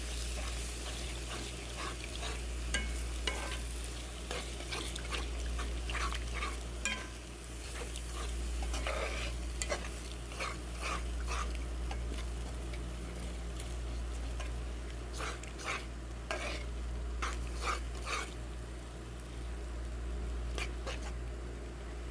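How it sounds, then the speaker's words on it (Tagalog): Creamy chicken and mushroom with evaporated milk being stirred in a pan, with repeated scraping strokes and light clinks over a low steady hum and faint simmer. "Mix lang natin para hindi dumikit."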